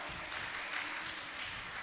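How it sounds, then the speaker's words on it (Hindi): Audience at a Jain religious discourse gives loud applause, a steady broadband wash of many hands clapping continuously through the whole stretch without a break. "जोरदार ताली बजाएं आप लोग"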